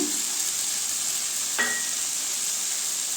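Radish cooks with tomato and kuzhambu masala for mullangi kulambu, giving a steady, even sizzle and hiss from the pan, with one small stirring clink midway.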